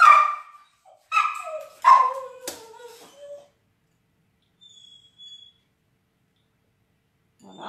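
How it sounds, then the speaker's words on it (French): A dog barks in a short burst of several loud, close yaps and whimpering yelps, then falls quiet, with a faint distant sound near the end; recorded in a home kitchen. "il y a le chien qui aboie qui me perturbe un peu"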